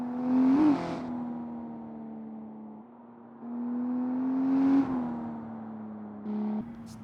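A BMW 1M coupe engine in the BeamNG.drive video game revs up twice, each rise swelling from a steady idle drone and then settling back, heard alone.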